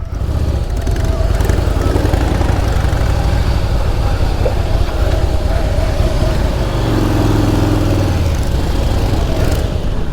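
A Harley-Davidson Softail Slim S motorcycle idles loudly up close, a continuous deep rumble with a slight change in pitch near the end.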